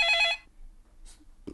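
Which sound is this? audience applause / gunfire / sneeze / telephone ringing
telephone ringing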